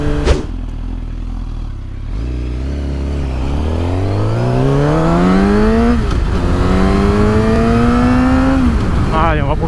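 A 2012 Suzuki GSX-R 750 Yoshimura edition sport motorcycle engine revs up through rising pitch sweeps at high RPM, dropping briefly between shifts and climbing again, loud and close throughout.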